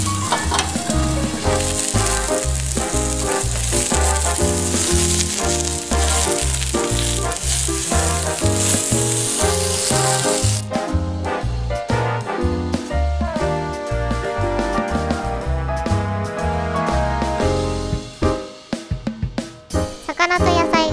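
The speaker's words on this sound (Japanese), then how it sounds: "フライパンの空いたところで野菜も炒めていきます。" White fish fillets and vegetables sear together in a frying pan over high heat, giving a steady sizzling hiss with light stirring rattles. Background music plays throughout, and the sizzle grows quieter partway through.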